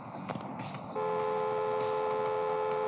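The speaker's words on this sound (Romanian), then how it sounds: "Hai să mai claxonăm un pic." A car horn in the Taxi Sim 2020 driving game gives one long, steady honk. It starts about a third of the way in and holds loud and unbroken to the end, over faint background game noise.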